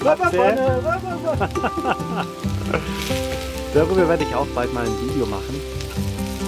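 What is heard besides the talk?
pirate pan dish sizzling while frying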